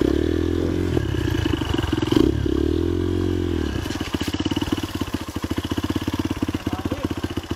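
A trail motorcycle engine runs close by, revving and then settling into a rapid, steady putter, with some clattering near the start.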